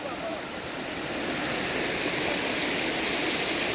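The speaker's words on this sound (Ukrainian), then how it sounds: "Така красива річка." Steady broadband rush of flowing water, continuous and fairly loud, like a mountain river in the Carpathians near Hryniava running close by, with no voices.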